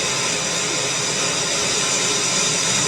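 A rocket lifting off on nine kerosene-fuelled engines gives a steady, loud, broadband roar like a rushing hiss, unbroken for the whole stretch with no voices over it.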